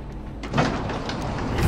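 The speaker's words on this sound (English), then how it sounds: "The door." A door opening in the horror video game Fobia St. Dinfna Hotel, a short, muffled, scraping swing that builds steadily over a low background rumble, with no voices.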